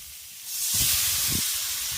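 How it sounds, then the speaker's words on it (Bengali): Water poured into a hot pan of amaranth stems sets off a loud, sudden steamy hiss that swells and keeps sizzling steadily for a couple of seconds, close up and with no voices. "এবার এর মধ্যে দিয়ে দেব জল"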